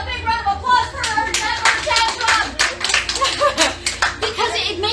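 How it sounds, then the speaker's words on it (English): An audience breaks into a steady round of applause at a talk, dense close clapping for several seconds with a voice speaking over it. "Steve, a big round of applause for her."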